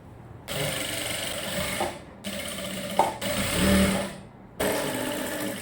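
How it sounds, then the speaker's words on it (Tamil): Sewing machine stitching around the neckline of a short gown with its lining turned inside, running in several bursts of whirring with brief pauses between them, close and steady. "இப்போது லைனிங்கை உள்ளே தள்ளி விட்டுட்டு கழுத்தை சுற்றி தையல் போட போகிறோம்"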